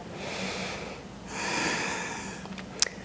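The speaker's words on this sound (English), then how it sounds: "Take one more deep inhale." A person takes a deep inhale during a gentle neck and trapezius stretch. The breath is a long, close, airy draw through the nose, swelling then fading, with a small sniff near the end.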